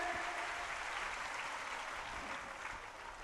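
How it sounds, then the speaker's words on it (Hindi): Audience applauding at a Bhagwat Katha gathering, a continuous wash of dense clapping from a large crowd, steady and loud, easing slightly at the end. "एक बार जोरदार आप तालियां इस दिव्य और भव्य आयोजन के लिए।"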